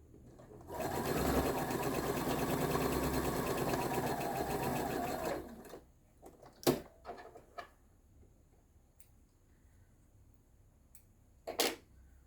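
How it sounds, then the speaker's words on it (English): A sewing machine runs a quarter-inch straight seam on a snail trail quilt block with a quarter-inch presser foot, humming steadily for about five seconds up close, then stopping, followed by a few brief handling clicks and knocks. "All straight sewing and 1/4 inch, and I have my 1/4 inch foot on here."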